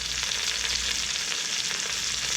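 Vegetables for pork miso soup sizzle hard in a hot pot, a loud, dense, continuous frying hiss with no pauses and no voices.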